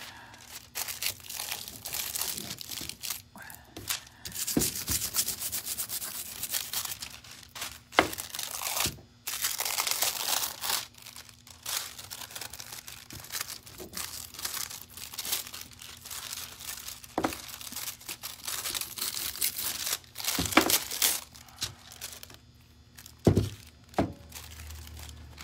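Aluminium foil crumpled and torn by hand during an antler decorating project, producing irregular crinkling and rustling bursts with sharp tearing and crunching accents across the whole stretch, fairly close and without talk.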